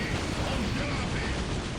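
Triple lance cannons fire in a Dawn of War Unification match between Death Guard and Orks, a dense, steady roar of blasts and mechanical rumble filling the whole moment without a break.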